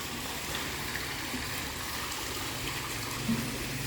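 Steady rushing flow of a waterfall stream in Khao Khitchakut National Park, Thailand, a continuous broadband wash, unbroken throughout.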